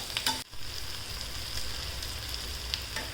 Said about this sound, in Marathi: परतून घ्यायचं आहे जरा कांद्याचा रंग बदलेपर्यंत।